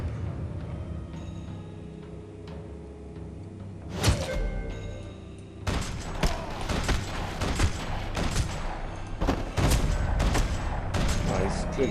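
Video game gunfire: after a quiet ambient stretch, a single sharp shot rings out, then a sustained rapid volley of gunshots rattles on continuously, dense and fairly loud against the game background.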